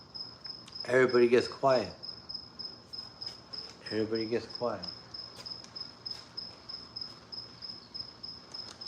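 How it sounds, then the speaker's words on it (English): Crickets chirp steadily throughout in a continuous high, pulsing trill, while someone speaks briefly over it twice. "All I hear is crickets."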